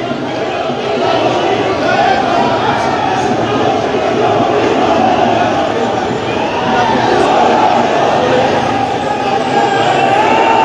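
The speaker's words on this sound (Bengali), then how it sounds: "এবং স্লোগানে মেতে উঠেছে জাতীয় পার্টির নেতাকর্মীরা।" Jatiya Party activists chant slogans at a rally marking the party's 39th founding anniversary beneath a metro rail station. A loud, dense crowd roar carries on steadily, with speech mixed in.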